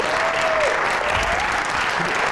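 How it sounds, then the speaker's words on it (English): Audience applause for a sponsor at a Pittsburgh civic coding event, a dense, steady wash of many hands clapping at full volume from start to finish, with a brief voice line rising faintly over it. "a round of applause for BNY Mellon"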